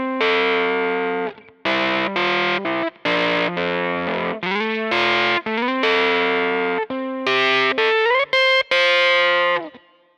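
A DI electric guitar track reamped through a Kemper Profiler comes out with a heavily distorted, gritty tone, playing a choppy riff of sustained chords and short stabs with brief gaps, loud and close with no speech.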